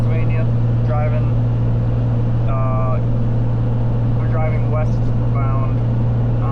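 A truck heads westbound on the Pennsylvania Turnpike, its steady low engine and road drone humming inside the cab while someone talks over it.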